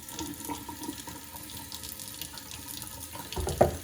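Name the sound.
tap water running while washing hands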